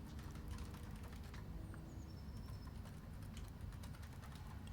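Close, steady tapping of keys on a computer keyboard in a quiet room, continuous keystrokes with no talking.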